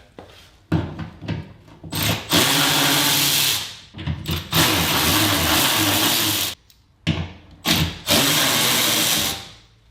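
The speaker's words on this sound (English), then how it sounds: "we're going to take out these 3 bolts that are going to release our handle on the other side" A power driver removes bolts from the tailgate of a 1999 GMC Sierra truck, loud close whirring bursts of several seconds each, separated by short clicks and handling noises.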